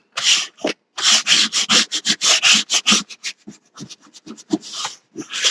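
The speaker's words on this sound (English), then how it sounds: "I'm just going to burnish that down." Repeated rubbing strokes of a burnishing tool pressing paper flat onto a mini album page, close and fairly loud, in quick uneven bursts with short pauses between.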